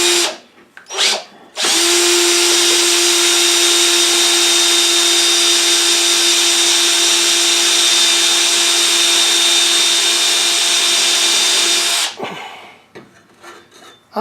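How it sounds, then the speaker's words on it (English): A handheld power drill bores into a deburring tool mount held against a lathe. It spins up with a steady, loud whine that holds for about ten seconds, then winds down, with a couple of short bursts before it. "So we'll drill this one the same way."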